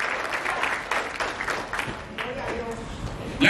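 Congregation applauding in a church service, a dense wash of clapping that holds steady for the whole stretch, with voices mixed in.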